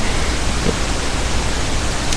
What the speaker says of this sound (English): for those of you that hear pink noise, you may actually be able to hear it. Yeah, it's an annoying sound for those of you who can.